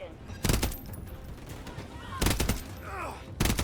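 Bursts of automatic gunfire in Call of Duty MW3 multiplayer, three loud volleys spaced across the moment with quieter game effects and faint background sound between them.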